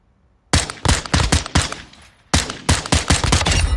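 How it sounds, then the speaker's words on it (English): Pistol gunshots from the video game Call of Duty: Modern Warfare 2, a rapid run of about ten loud, sharp close-range shots in two bursts separated by a brief pause, with no talking. "Let's try out the pistol though."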